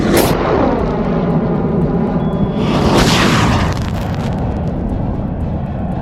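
Amateur rocket lifting off at a far desert launch site in the Mojave, California: a loud, sustained roaring rumble that swells and then slowly fades as it climbs away.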